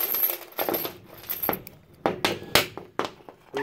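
A whole bunch of keys jingles and clinks in a series of sharp metallic bursts at irregular intervals, close by and fairly loud, with no talking.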